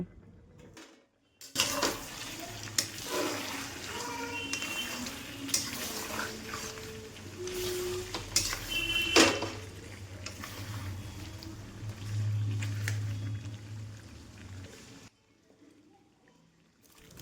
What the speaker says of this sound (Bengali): ফার্স্টে গুঁড়ো মশলা দিয়ে দেব, দিয়ে এটাকে একটু নেড়ে চেড়ে নেব